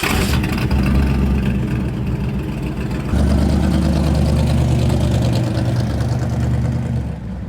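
A car fitted with a COMPUSHIFT Sport controller and D9 paddle shifter drives on a test run, its engine humming loud and steady, with a change in engine note partway through that suggests a gear shift.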